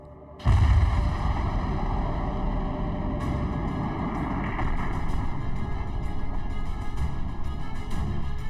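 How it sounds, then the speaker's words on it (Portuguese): A supernova explosion sound effect: a sudden deep boom bursts in and rolls into a sustained, dense roar of rumbling, crackling noise that continues without fading. "E isso gera a explosão mais impressionante do universo."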